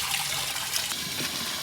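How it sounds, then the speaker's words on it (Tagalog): Water pours and gushes out as cooking liquid is drained from cooked chopsuey vegetables, a short, steady splashing stream with no talking. "Tanggalan natin ang tubig."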